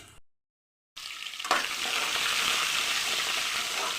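Onions dropped into oil with dried red chilies, a short silence then a sudden loud burst of sizzling that settles into steady close frying, with no talk.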